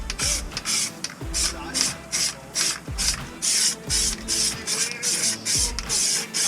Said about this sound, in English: I'm using some extra strong carpet spray.